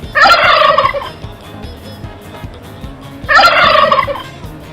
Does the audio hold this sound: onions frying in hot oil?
no